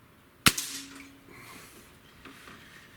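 Single shot from a Beeman 2015S double-barrel air rifle: one sharp, close crack with a short ringing decay, then quiet room tone.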